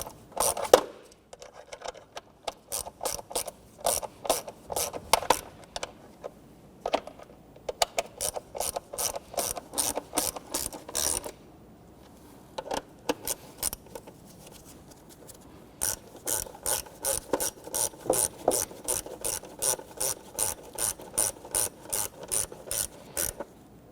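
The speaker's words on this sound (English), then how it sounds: "And we'll go ahead and snug down our upper bolts here." A ratchet snugs down upper bolts on a 1992-1996 Toyota Camry 2.2L four-cylinder engine, giving bursts of quick, close clicking strokes with short pauses between runs, quiet overall and without talk.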